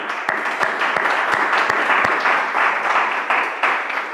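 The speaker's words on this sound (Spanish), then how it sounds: "desde aquí la congregación que está aquí en el local les damos un aplauso a los que están ahí conectados" A church congregation applauds in its meeting hall, a lively burst of many hands clapping that stays close and steady, with a few sharper individual claps standing out.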